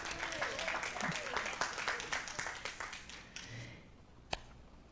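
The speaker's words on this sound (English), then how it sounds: "Let's give Kevin a round of applause." A church congregation applauds Kevin Thompson during a Sunday service, a lively round of clapping with a few voices mixed in that tapers off, ending with a single sharp clap.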